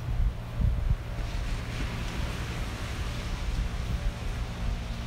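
Wind gusts buffet the microphone on a chilly beach, with low rumbling surf rolling steadily underneath and no voices.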